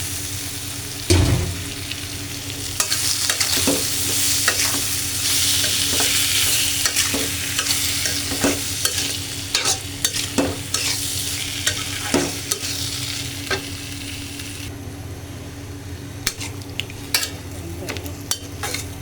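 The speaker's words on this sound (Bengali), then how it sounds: "এখন আমি কচুর মুখি দিয়ে দিলাম" Taro roots stir-fried with green chili in a pan: a loud, continuous crackling sizzle with repeated sharp scrapes of a spatula turning the pieces.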